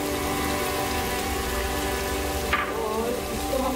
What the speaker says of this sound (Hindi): और इसको हम 2-3 मिनट भूनेंगे।